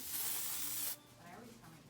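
A strong, loud hiss of aerosol texture hair spray from a can for about a second, then cutting off into quieter room sound.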